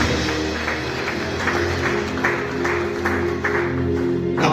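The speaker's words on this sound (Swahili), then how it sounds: "Pigia Yesu makofi mazuri." A church congregation claps steadily for Jesus, a dense sustained wash of applause with faint rhythmic accents throughout.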